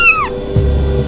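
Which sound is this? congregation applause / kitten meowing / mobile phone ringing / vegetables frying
kitten meowing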